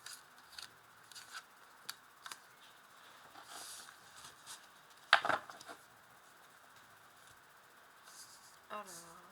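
Tarot cards are drawn one by one from a deck: quiet sliding scrapes and light flicks, with one sharper snap partway through, close and soft against a hushed room.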